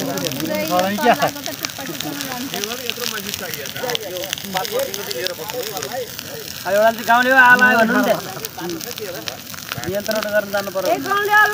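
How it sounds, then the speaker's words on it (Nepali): A forest fire on a hillside crackles and hisses steadily while several people talk over it nearby. "आगो लागिसक्यो भिरमा"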